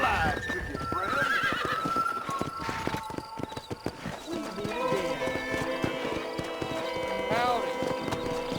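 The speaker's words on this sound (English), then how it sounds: "Here's your horse, friend." A horse whinnies and its hooves clip-clop in the Western video game Red Dead Redemption, the neigh and steady hoofbeats heard close over game music and ambience.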